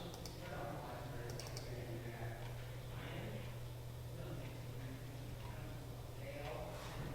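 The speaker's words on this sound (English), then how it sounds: "I'm going to hold my control key down." Soft clicks of keys pressed on a computer keyboard during a Word lesson, a few scattered taps over a steady low hum, faint and close.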